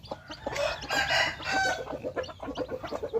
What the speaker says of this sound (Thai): นี่ไก่นุ่ม